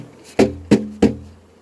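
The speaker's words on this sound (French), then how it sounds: "Je vais retaper." Three sharp knocks on a beehive box, evenly spaced and close, each a short hollow thump standing alone against a quiet background.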